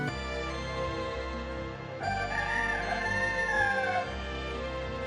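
A rooster crows once over soft sustained music in an animated film, its call rising and falling clearly before the melody continues.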